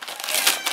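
A dog ripping open Christmas wrapping paper, crinkling and tearing in a quick, rustling burst, close and fairly loud, with no talking.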